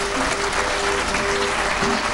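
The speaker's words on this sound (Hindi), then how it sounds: "एक बार जोरदार तालियां इस बात के लिए।" Loud, steady audience applause fills a Kavi Sammelan poetry gathering, a dense wash of clapping from a large crowd that runs unbroken throughout, with a faint tone sustained underneath.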